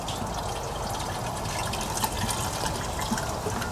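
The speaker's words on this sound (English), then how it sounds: "We just take one bottle and we dump it in to a container inside." Water dumped from a bottle into a container at an improvised outdoor sink used for washing dishes, a steady loud gushing pour that runs throughout without a break.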